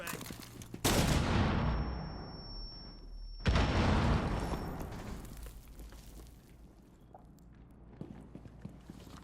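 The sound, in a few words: flashbang grenade going off in Rainbow Six Siege video game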